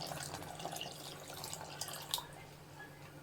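Strained coconut milk, made from ground coconut, poured into a cooking pot for a breakfast dish: a faint, steady liquid splash and trickle running for a few seconds, with no talking.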